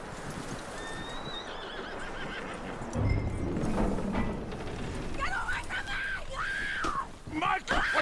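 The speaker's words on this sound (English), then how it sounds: "That looks like a decent horse." A horse in Red Dead Redemption 2 whinnies loudly and stamps with clip-clopping hooves, close up, while voices talk over the scene.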